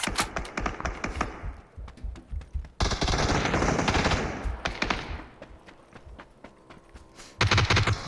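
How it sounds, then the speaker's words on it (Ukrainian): Rapid bursts of automatic gunfire in the video game PUBG, loud and close, punctuated by pauses and single shots, with a second intense volley near the end. "Він десь в ангарчиках чую, стріляється"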